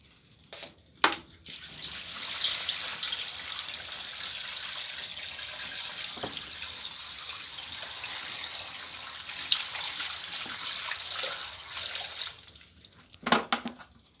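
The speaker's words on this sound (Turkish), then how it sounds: "Üstüne biraz su ekliyorum." Water pours steadily from a tap over chicken bones being prepared as food for a Kangal dog, a continuous close splashing hiss lasting about ten seconds, bracketed by a few clunks of handling before and after.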